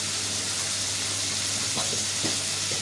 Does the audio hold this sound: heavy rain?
no